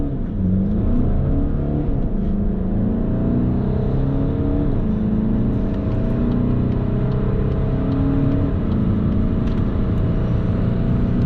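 A 2021 Volkswagen Golf GTD diesel pulls away from a standstill, its engine note climbing through the gears in rising and falling pitch sweeps with brief dips at the shifts, heard close from inside the car.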